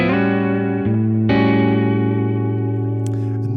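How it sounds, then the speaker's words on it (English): Electric guitar playing slow drop D blues through a Fender amp with only reverb: a few sustained, ringing notes that change pitch with a sharp new attack, played alone and close. "I'm just playing a regular Fender amp here with no effects, just bring reverb and that's it."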